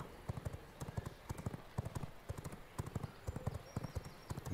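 Rapid clip-clop of horse hooves galloping in the video game V Rising, steady and close with a brief whinny, a faint voice under the hoofbeats.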